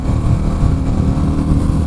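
Royal Enfield Meteor 350 motorcycle with a 350cc single-cylinder engine cruising on a highway, giving a steady, loud low drone with wind rumble and no speech.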